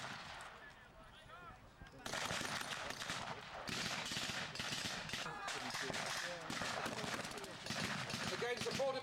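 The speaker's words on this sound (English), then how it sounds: "A lot more firepower now coming up on the German side." WW2 battle reenactment at Lichfield Barracks: dense, continuous bursts of machine-gun and rifle fire mixed with heavier artillery booms, growing louder after a quieter opening, with a commentator's voice faintly underneath.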